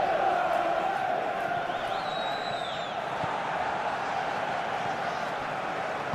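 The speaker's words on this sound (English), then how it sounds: "Well, the crowd aren't happy." A simulated football stadium crowd at an EFL Cup semifinal between Arsenal and Chelsea in a video game, a steady, dense murmur of many voices with a brief whistle-like rise, continuous and moderately loud throughout.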